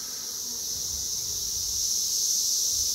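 Steady high insect buzzing beside a beehive in a summer garden, continuous and fairly loud with no talking.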